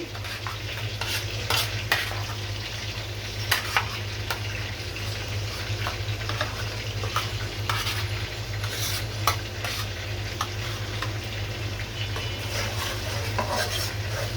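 Onion paste fries in a pan with a continuous, even sizzle and occasional light clinks of a utensil, all over a steady low hum, with no voices.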